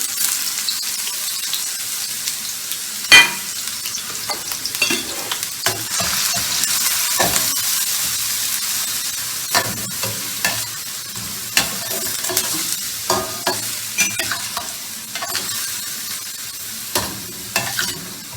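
Chopped onion and green chili frying in oil for a fish kata kat dish, a steady close sizzle punctuated by sharp scrapes and knocks of a spoon stirring against the pan, with no talking.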